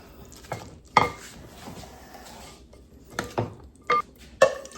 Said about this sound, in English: For now, let's mix this together.